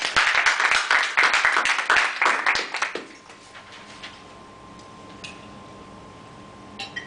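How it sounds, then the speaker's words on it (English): Club members clap for themselves at a meeting, brisk close applause for about three seconds that stops abruptly, leaving a quiet room with a faint tone and a couple of small taps. "Let's give ourselves a applause."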